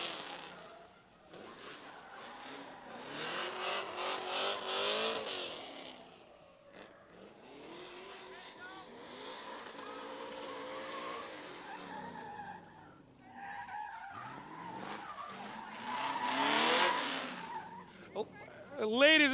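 A drift car at a drift pit event skids and revs hard, tire squeal and engine roar rising and falling in long loud passes, with an announcer and crowd talking over it.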